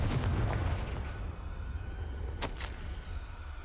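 In the Hogwarts Legacy video game, the Confringo explosive spell goes off with a loud, heavy boom at the start that rolls into a long, rumbling decay, followed by a faint crackle.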